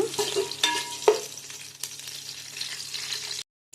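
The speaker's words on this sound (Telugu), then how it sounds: "ఆనియన్స్ వేసుకోవాలి, పచ్చిమిర్చి వేసుకోవాలి, ఎర్రగా వేయించుకోవాలండి" Onions and green chillies fry in a pan with a soft sizzle. A few close clinks and scrapes of a spoon stir them, then the sound cuts off.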